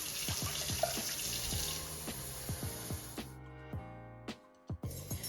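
Tap water runs steadily into a measuring cup in a home kitchen, a continuous close splashing rush that stops partway through, leaving a few faint clinks and knocks.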